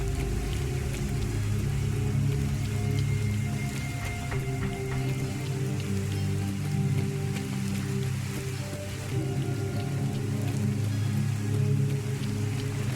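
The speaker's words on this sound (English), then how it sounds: "Rain." Steady rain falls in Fallout 4, a continuous even patter that stays moderately loud throughout with no voices over it.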